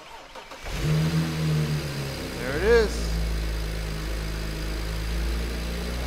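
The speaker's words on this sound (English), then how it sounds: "Go ahead and try starting the car." A BMW 335i with the N54 engine, cowl and engine cover removed after a high-pressure fuel pump replacement, cranks and fires up at close range, then settles into a steady low idle while a person speaks briefly over it.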